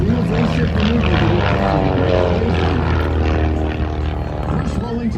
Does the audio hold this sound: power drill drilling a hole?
no